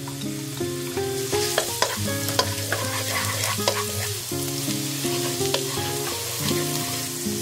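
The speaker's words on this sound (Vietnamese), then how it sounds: "Dầu nóng thì mình cho hết chỗ hành tỏi còn lại vào phi lên cho thơm." Shallots and garlic sizzle in hot oil in a pan, a steady close frying hiss broken by scraping stirring strokes, with a background tonal hum and no talk.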